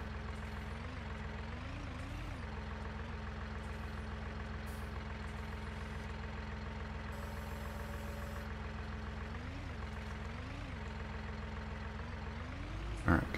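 Small tractor engine from the Farming Simulator 19 game, a steady mid-pitched idle running throughout at an even, moderate level, with slight revs rising and falling, and no talking over it.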